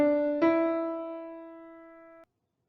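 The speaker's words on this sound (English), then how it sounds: "The melody of walking along a path would sound like this." Sonified place-cell firing from a mouse walking along a path, rendered as a single clear synthetic tone with a soft attack, then a second brighter note struck and held, fading steadily before stopping abruptly.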